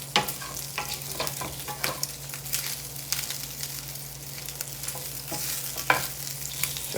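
Sausage fries and turns crispy in a cast iron skillet for biscuits and gravy, giving a steady close sizzle with scattered crackles and spatula scrapes and no voices.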